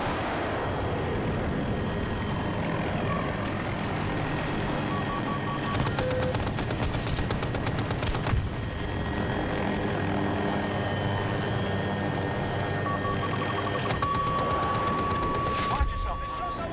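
Helicopter in Battlefield 2042, its rotor thrumming steadily and loud throughout, with bursts of rapid machine-gun fire breaking in, electronic beeps, and players talking over it.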